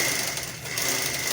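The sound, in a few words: sewing machine stitching a sleeve border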